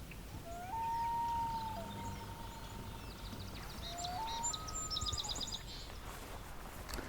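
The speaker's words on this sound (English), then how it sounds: "There's a song sparrow up on the right here." An unusual song sparrow sings from a lakeside perch, a series of thin whistled notes and quick high trills at moderate distance over steady background hiss, with no voices.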